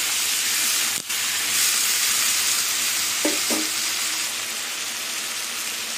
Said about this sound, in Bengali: এবার চিংড়ি মাছ দিয়ে আলু পেঁয়াজ আবার কিছুক্ষণ ভাজবো।